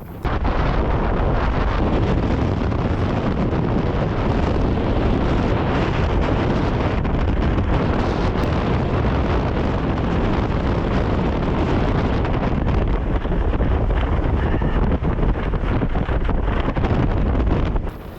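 Loud, relentless ground-blizzard wind roars and buffets a four-season tent continuously, a heavy low rumble with gusty bursts throughout and no pauses.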